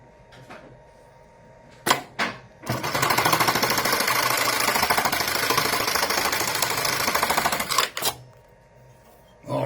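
A Kingmax GT1900BH electronic box tacker staples a cardboard box: a few sharp isolated clacks, then about five seconds of rapid, loud, steady mechanical hammering, followed by more single sharp clicks, all close and without speech.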